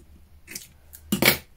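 Scissors snip through paper while a calendar page is being customised: a few short, crisp cuts close by, the last one longest and loudest, with no one talking.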